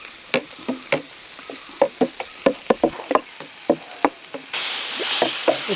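Okra being sautéed in a pan for Kerala-style moru curry, with turmeric added: a string of distinct stirring scrapes and clacks over a soft sizzle, ending in a louder, steady burst of hiss, close by and with no talk.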